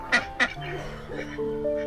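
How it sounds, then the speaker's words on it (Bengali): Ducks at an artificial village pond give two sharp quacks close by, followed by softer drawn-out honking calls, alone without talk. "ওই হচ্ছে সেই হাঁসগুলো"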